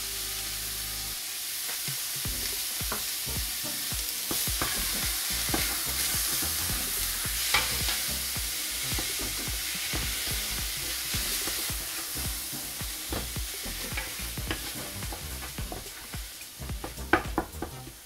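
Vegetables with onions and garlic fry in a pan, sizzling and crackling steadily for a long stretch. A utensil stirs now and then, and a few louder clinks come near the end.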